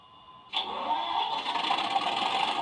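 An Accurascale Class 37 model locomotive's sound unit fires up after a quiet electrical hum, with a sudden diesel engine start that settles into a steady, rumbling idle, close and solo.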